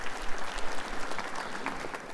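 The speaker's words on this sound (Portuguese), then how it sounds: "Essa palminha está bem fraca" A church congregation at Mass claps in light, scattered applause, a soft continuous patter of many hands filling the room without any voices.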